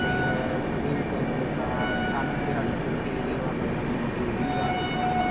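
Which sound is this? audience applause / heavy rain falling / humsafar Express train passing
humsafar Express train passing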